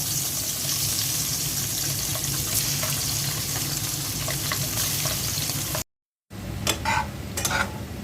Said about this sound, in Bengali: পাতিলায় তেল দিয়ে দিয়েছি এখন মাছটা দিয়ে দিচ্ছি মাছটা হালকা ভেজে নেব